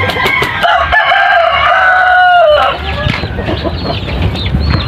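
Chinese chickens and Rhode Island chickens moved down to the ground, with a rooster crowing loudly and close for about three seconds, followed by scattered clucking.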